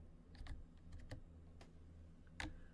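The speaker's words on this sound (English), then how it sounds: "Watch as I type in a search query." Computer keyboard keys tapped to enter a search query, a few quiet, irregular clicks close by in a hushed room.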